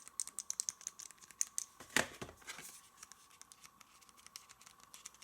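Buttons on a Nintendo Switch 2 controller pressed in quick succession, a faint run of small sharp clicks with one louder clack midway, close and quiet with no talking.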